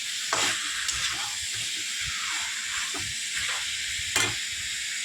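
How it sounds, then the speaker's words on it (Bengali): Mixed vegetables with tomato are stirred in a sizzling pan, with a steady frying hiss broken by regular spatula scrapes and a few sharper knocks against the pan. "এই টমেটোটা দেওয়া হয়ে গেছে, ভালো করে মিক্স করে নেব। কিছুক্ষণ নাড়াচাড়া করে নেব ভালোভাবে।"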